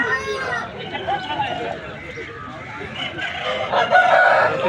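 At a rooster market in Vijayawada, roosters crow and hens cluck amid constant crowd chatter. Someone talks close by throughout, and the fowl sounds rise louder toward the end.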